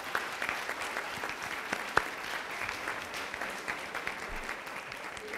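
Steady applause from a conference audience, a dense wash of clapping hands that holds evenly throughout without pause, heard at a moderate distance.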